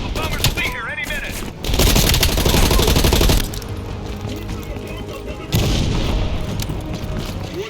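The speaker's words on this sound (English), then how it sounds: "Bombing strike imminent." Bombing strike in the Cold War-era shooter Black Ops Cold War: loud, sustained rumbling explosions and bursts of gunfire, with heavy booms swelling twice, under game voices and radio chatter.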